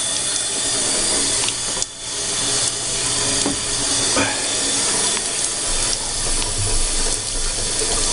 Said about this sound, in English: We have a water leak. We have a bad one at the shut-off to the water supply